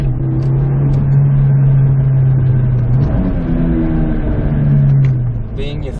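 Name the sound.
Toyota Celica engine revving with cold air intake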